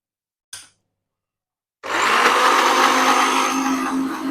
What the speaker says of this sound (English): On with the blender.